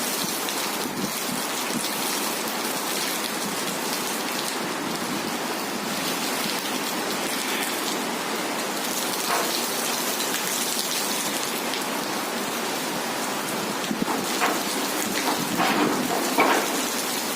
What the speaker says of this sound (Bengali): এই যে বৃষ্টি পড়তেছে আপনারা দেখতেছেন প্রচুর বৃষ্টি